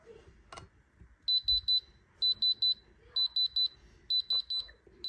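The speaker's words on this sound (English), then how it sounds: "Here you go with the diamond tester." A diamond tester pressed to a moissanite pendant gives loud, clear high-pitched beeps in four quick groups of three, with faint handling sounds between them.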